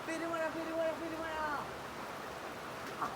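Steady wash of heavy rain in Kochi, a constant close hiss running the whole time, with a voice talking over it in the first half.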